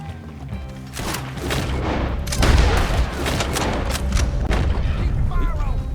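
Gunfire from a modded bandit hideout fight in Red Dead Redemption 2 sounds as dense, booming shots and rolling volleys that continue for several seconds under loud game ambience, with a voice speaking over part of it.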